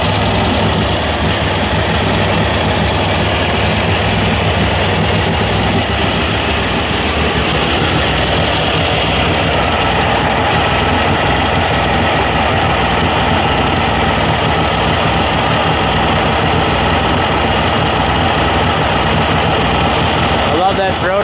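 An air-cooled VW engine idles loudly and continuously with a throaty exhaust, fitted with a remote oil filter and burning off oil, a dense steady rumble that shifts slightly in tone partway through, with speech mixed in.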